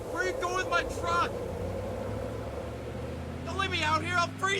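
Truck engine rumbling steadily and pulling away on a cold, clear night on a rural road, a low sustained drone heard under and between shouting voices.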